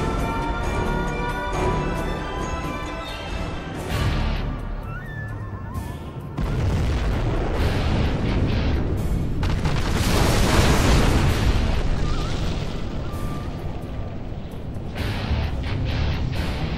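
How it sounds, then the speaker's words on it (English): Nuclear missile detonation in the real-time strategy game Command & Conquer Generals Zero Hour, China challenge: a sustained, loud, rumbling blast swells and roars for many seconds over a dense low boom, with game effects layered in. "We have launched our nuclear missile."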